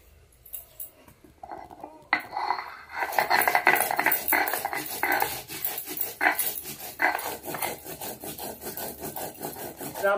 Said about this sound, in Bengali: পরিমাণ মতন শুকনো লঙ্কা আর জিরেটা একসঙ্গে বেটে নেব।